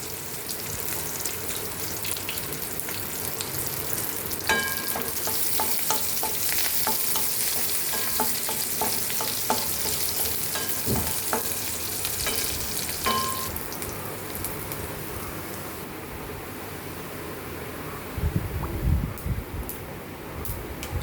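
Mustard seeds and dried chillies frying in hot oil for a mango pulissery tempering, a steady crackling sizzle with clusters of sharp popping bursts, then a louder splutter near the end.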